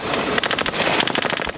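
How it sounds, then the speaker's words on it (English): Sustained machine-gun tracer fire from a Jackal vehicle troop toward enemy positions about 200 meters off in Afghanistan, a rapid rattling burst of shots, loud and continuous. "Red-hot tracer fire is aimed at enemy positions just 200 meters away."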